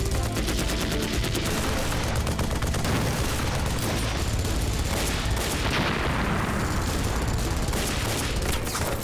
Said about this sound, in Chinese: 山传来激烈枪声